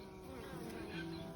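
Honey bees buzz steadily at a hive entrance where wasps have been attacking, a dense, continuous insect drone up close with no talk over it.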